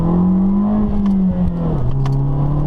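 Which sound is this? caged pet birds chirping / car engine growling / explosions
car engine growling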